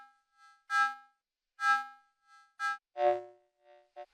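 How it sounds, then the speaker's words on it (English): A breathy, chiffy flute sample resynthesized in the Dawesome Myth synth plays several short, separated notes with airy noise and odd overtones, quiet and close with silence between notes. "What I've done here is loaded a flute sample."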